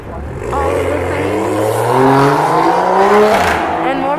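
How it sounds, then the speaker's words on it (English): A loud car passes on a busy shopping street near the Glendale Galleria and the Americana in Los Angeles, its engine revving and rising in pitch as it draws close, steady and prominent for several seconds. "more people with really loud cars"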